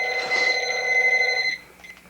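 A telephone bell rings in a steady electronic trill for about a second and a half, fairly close and clear, then cuts off, leaving faint room noise.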